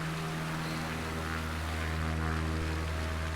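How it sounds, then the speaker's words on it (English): A Carbon Cub light propeller airplane with tricycle landing gear drones in Microsoft Flight Simulator 2020, a steady, close, humming engine tone with layered harmonics and faint rain-like hiss, no voices. "This airplane is the Carbon Cub with tricycle landing gear."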